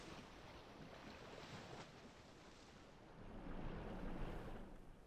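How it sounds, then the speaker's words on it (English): Water waves in the ARK video game wash and roll as a steady, soft surf hiss, swelling a little louder toward the end, with no voices. "It's just the sound of the water?"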